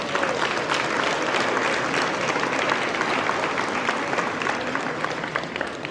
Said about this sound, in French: Je pense qu'il mériterait une bonne main d'applaudissements aussi.